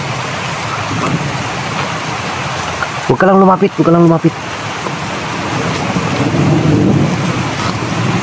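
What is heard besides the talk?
rain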